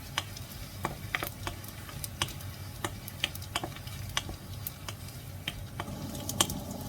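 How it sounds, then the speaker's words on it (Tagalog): Anchovies fry quickly in a pan, a soft continuous sizzle punctuated by frequent sharp ticks and pops of spattering oil, heard close with no talking. "piprito natin yung ating dilis. So, mabilisan lang po yung prito natin."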